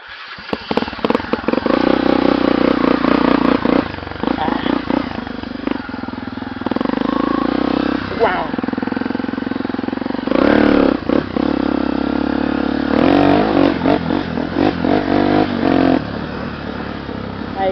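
A Tornado 300cc motorcycle engine with a Maxon turbo exhaust tip revs repeatedly, rising and falling in bursts with clattering mechanical noise throughout, loud and close.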